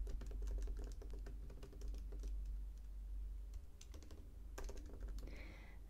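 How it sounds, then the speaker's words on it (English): Typing on a computer keyboard in a quiet room, with quick irregular bursts of close, soft key clicks and short pauses between them, under a steady low hum. "let me type that in"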